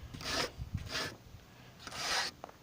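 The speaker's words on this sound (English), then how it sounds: "You get in there and sweep out all that old rust and dust, metal particles." Brushing debris out of the inside of a 1948 Buick Special frame, loosening old rust, dust and metal particles: three rough, hissing sweep strokes in bursts with short gaps between them, close and fairly loud.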